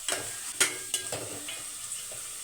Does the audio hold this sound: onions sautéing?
yes